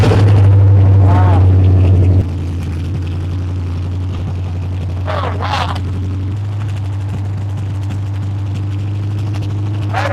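A flathead engine runs on a run stand, loud and close at first with a deep steady drone, then continuing more quietly at idle while people talk over it.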